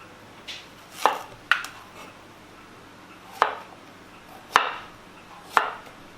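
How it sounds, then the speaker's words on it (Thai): A knife chops eggplant on a cutting board for a Thai duck-egg curry: five or six sharp, close chops spaced irregularly, with no talking. "หั่นมะเขือใส่สักนิดนิดหน่อยหน่อยไม่ใส่เสียเยอะ"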